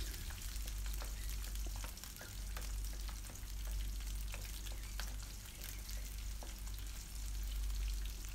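Shallots and garlic sauté in oil with mustard seeds, giving a soft, continuous sizzle scattered with small, sharp pops and crackles over a low background rumble.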